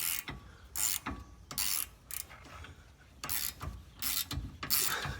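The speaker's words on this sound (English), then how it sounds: "this is a 15mm opening wrench as well. So what I'm going to do is put this in here and this here, and I can start to loosen this end piece." A 15mm open-end wrench working loose the end link of a Steeda sway bar on a Ford Explorer, giving repeated close metallic clicks and ratcheting scrapes in short bursts, loud and near, with no talking.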